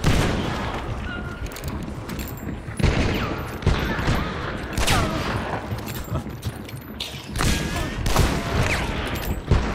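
Dense gunfire and explosions from the video game Hunt: Showdown, with loud rattling volleys and heavy booming blasts crowding one another nonstop, fading briefly and then flaring again, and no voices over them.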